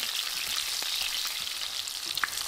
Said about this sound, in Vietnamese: Mình khuyên cho đậu vô và chiên lửa lớn luôn